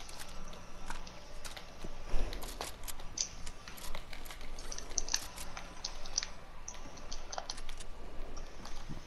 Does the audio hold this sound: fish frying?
no